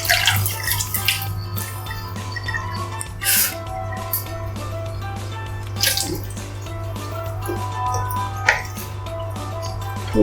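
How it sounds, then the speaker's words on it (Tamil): Water is poured into a simmering pirandai tamarind kuzhambu in a pan, a running, splashing flow with small drips and light pings from the cookware, loud and close throughout. "தேவையான அளவு தண்ணி ஊற்றிக்கலாம் கொஞ்சமாக."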